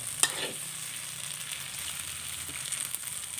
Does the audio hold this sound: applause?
no